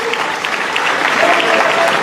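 A large crowd at a university gathering in Cape Coast breaks into steady, dense applause, a continuous wash of clapping with some faint voices mixed in, loud and sustained throughout.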